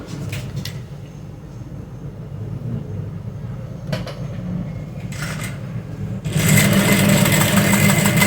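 A sewing machine stitching a trouser hem runs with a steady mechanical whir and hum, louder and busier toward the end, close and alone without speech.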